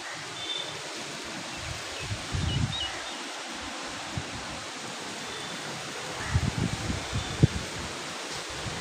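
Wind blows steadily across a rooftop on a hot late-Raja day, a constant broadband hiss with soft rustling and a few low gusty buffets, fairly faint with no talk.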